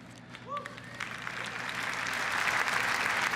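Audience applause at a Google I/O Kotlin talk, a broadband patter of many hands that swells steadily louder over a few seconds, with a voice briefly heard at the start.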